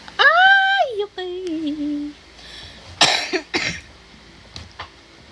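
A woman coughs sharply a few times at close range, with a drawn-out vocal sound just before and quieter breaths between bursts.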